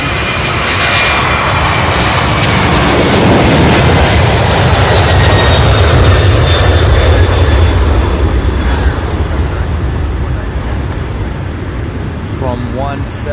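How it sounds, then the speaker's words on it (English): Several aircraft line up to take off at Louisville SDF airport, a loud sustained jet engine roar that swells and then eases slightly, with radio chatter underneath. "we now have several aircraft lining up here to take off here"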